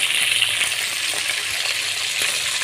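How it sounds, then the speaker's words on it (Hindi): Chicken pota, or tripe, fries in a pan with a loud, dense, steady hiss of sizzling oil close by, with faint occasional clicks under it and no talking. "जो रह गए थे उनको भी मैं इसी तरह फ्राई कर रहा हूँ।"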